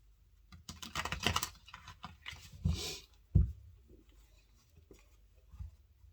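A quick riffling flutter of tarot cards being shuffled during a reading, then a few soft taps and thumps as the deck settles, quiet and close.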